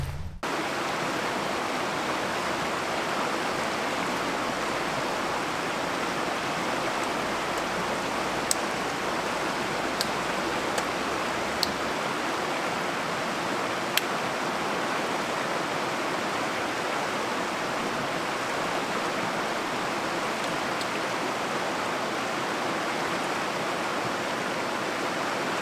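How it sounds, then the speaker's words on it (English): River flowing steadily close by, a loud, constant broadband rush of water with no breaks, a few faint clicks on top. "Quite noisy down here by the river"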